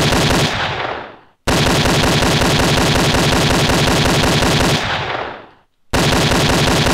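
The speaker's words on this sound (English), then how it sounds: "So I'm just gonna pick up the assault rifle now." Assault rifle gunfire in a Dark GDK third-person shooter video game rattles out as loud, continuous automatic bursts with two brief pauses where the firing fades and stops before resuming.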